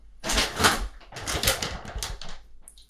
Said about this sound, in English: apologies for the rustling